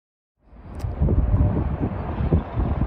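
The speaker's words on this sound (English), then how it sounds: "it's still pretty windy" Heavy wind buffets the microphone at a junkyard, a loud low rumble that starts abruptly after a short silence and keeps gusting and fluttering unevenly, with no voices.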